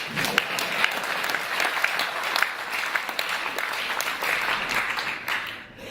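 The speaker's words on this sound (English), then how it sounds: "You can clap." An audience at a political talk by UKIP's Nigel Farage breaks into steady applause, a dense sustained clatter of many hands with a few sharper claps, easing off near the end.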